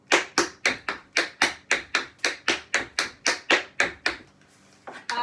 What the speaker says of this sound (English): it'll be shuffle, forward, back, step, shuffle, back, step.